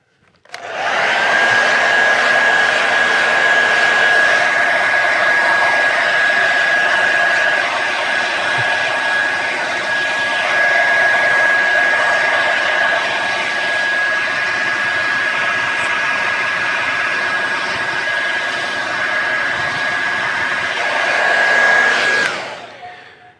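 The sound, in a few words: hair dryer drying a pompadour hairstyle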